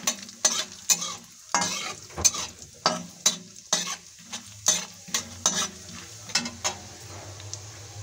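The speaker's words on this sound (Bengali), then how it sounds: "এই ড্রাই ফ্রুটগুলো একটু ভেজে নেব হালকা" Dry fruits fry lightly in ghee for carrot halwa while a spoon scrapes the pan in a steady rhythm, about a dozen crisp strokes over a soft sizzle, close and fairly loud.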